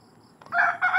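Chickens on a farm scratching among okra plants, a quiet rustle followed by a loud, close rooster-like crowing call in two bursts.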